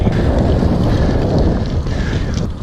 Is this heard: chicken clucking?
no